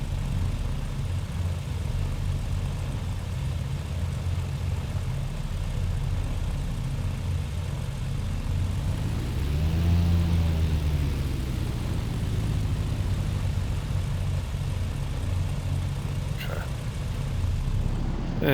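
Simulated Britten-Norman Islander piston engines idle after landing at Mustique in a steady low drone, with a brief swell of propeller thrum near the middle.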